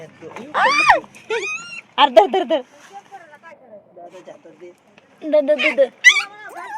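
Puppies yelp and whine in short high-pitched bursts, close by, with pauses between the clusters of cries.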